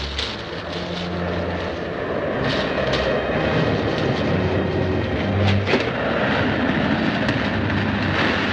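Propeller airplane approaching, a steady broad engine drone that swells slightly louder over the stretch with no voices.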